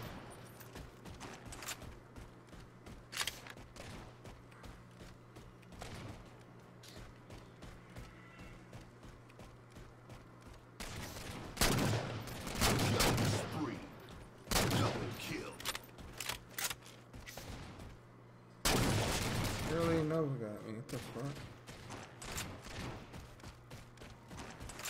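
Gunfire in Halo 4 multiplayer comes as scattered single shots, then several loud bursts of rapid fire with quieter gaps between them.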